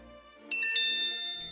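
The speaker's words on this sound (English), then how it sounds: "As we were talking about this, I got a line notification." A LINE app message notification plays as a short bright chime of a few quick tinkling notes over a soft musical background.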